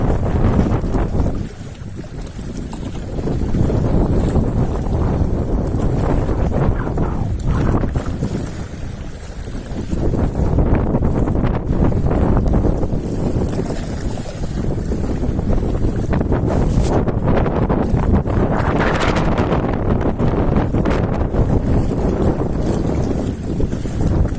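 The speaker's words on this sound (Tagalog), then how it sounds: "Napakalakas ng hangin." Strong wind roars and buffets the microphone continuously while fishing from a boat, with water and boat noise underneath, loud throughout with gusty surges.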